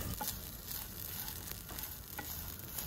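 Grated coconut, turmeric and curry leaves frying in a pan for sambar, giving a steady close sizzle with light stirring scrapes throughout.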